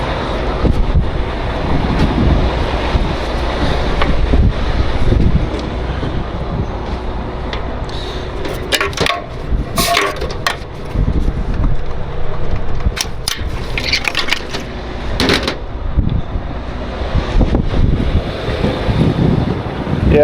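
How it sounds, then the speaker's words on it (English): Strong wind roars and buffets a camera microphone fitted with a wind muff, a loud rumbling rush with occasional gusty bursts and crackles, amid a wildfire. "I'm sure you guys can hear that wind, even with the wind muff thing on this camera."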